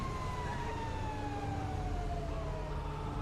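A fire truck siren in a video game wails steadily in a long falling tone over constant engine and background noise, with no talking.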